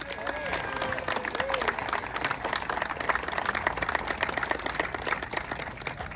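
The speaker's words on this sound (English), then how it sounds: "Give them a round of applause." Audience applauds for local election candidates at a political gathering, steady dense clapping filling the whole stretch with crowd noise and some voices mixed in.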